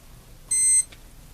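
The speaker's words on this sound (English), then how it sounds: "so I get the initialization beep from the ESC." A single short electronic beep from an RC model's ESC sounds at startup, clear and close against a quiet background.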